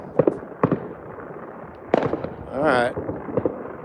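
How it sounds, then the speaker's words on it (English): New Year's Eve fireworks going off around midnight, heard from a balcony: scattered sharp distant bangs and crackles, plus a rising whistle, with a person speaking briefly over them. "Already some people are getting the fireworks off."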